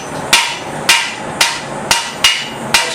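A cross peen hammer strikes hot iron during forge welding, six sharp metallic blows at a steady, even rhythm about half a second apart, close and loud with no talk.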